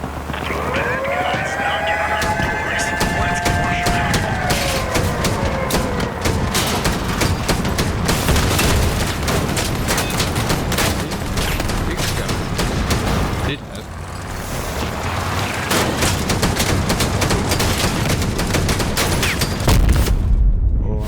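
Video game gunfire rattles almost without pause for about twenty seconds, loud and dense, with whining rising tones early on and a short dip in intensity midway.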